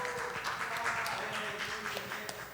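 Light applause from a youth church congregation at a Sunday worship service, scattered claps heard under someone speaking through the sound system.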